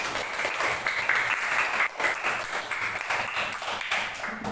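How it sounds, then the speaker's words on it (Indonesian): A classroom of students applauds together, steady continuous clapping throughout, fairly faint and without talk over it. "Tepuk tangan untuk kita semua."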